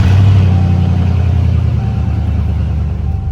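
A 2003–2006 Chevrolet Silverado pickup, fitted with new slotted and drilled brake rotors and coil packs, rumbles along on a test drive, its engine drone loud and steady from inside the cab.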